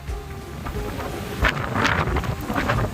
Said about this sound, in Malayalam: നല്ല രീതിയിലുള്ള കാറ്റുണ്ട് കേട്ടോ ഇവിടെ